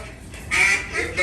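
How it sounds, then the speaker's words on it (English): A couple of short nasal quacks from small ducks in a hotel fountain in Memphis, close by and moderately loud, over faint background noise. "these little ducks"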